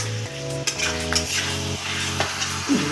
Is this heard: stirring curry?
yes